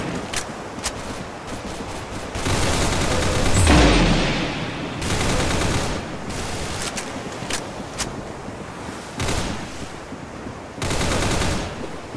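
Bursts of automatic gunfire from the video game Arsenal, rapid shots in short volleys with pauses between, loud and close without speech.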